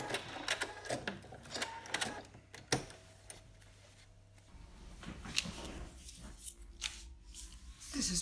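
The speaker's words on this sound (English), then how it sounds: "I'm stitching through the zipper facing and the two layers of the zipper pocket." A sewing machine stitches through a zipper facing and the two layers of a zipper pocket, its motor whirring in short bursts with a steady low hum and brief pauses between runs, fairly close.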